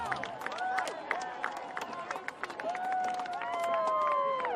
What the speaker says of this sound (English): a massive round of applause for our top 3 men, Tebogo, Warinyane, and your champion, Lungi